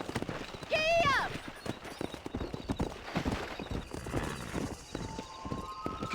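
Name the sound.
horse galloping hoofbeats in video game Red Dead Redemption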